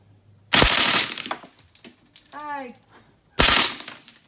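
Two loud bursts of machine gun fire at Pelican Point, Lake Martin, each roughly a second long, sharp and close, with a person speaking briefly between them.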